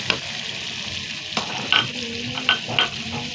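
Meat fries in a pan with red chilli and turmeric while being stirred, giving a close, continuous sizzle broken by several sharp scraping strokes of the spoon, with no voices.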